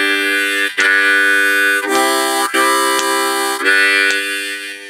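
Slow harmonica chords, breathed out and in, swell in four sustained phrases with brief breaks between them, played alone and close.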